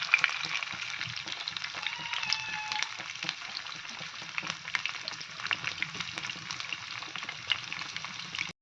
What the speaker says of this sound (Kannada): ಈಗ ಫ್ರೈ ಮಾಡ್ತಾ ಇದ್ದೀನಿ